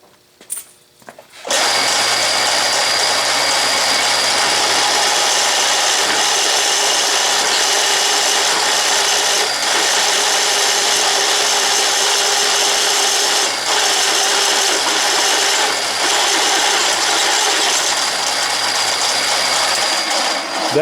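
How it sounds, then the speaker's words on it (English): A belt-driven drill press turns a 3/4 inch bit into steel, making a loud, continuous grinding and whirring roar with slight scraping variations after a brief start. "it takes a lot of energy to turn a 3/4 inch bit into steel"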